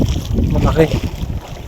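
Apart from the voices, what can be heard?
strong wind on a fishing boat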